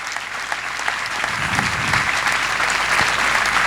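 Hearty applause from a church congregation giving thanks to Jesus during a worship program, a dense, steady wash of many hands clapping that swells slightly and carries on throughout.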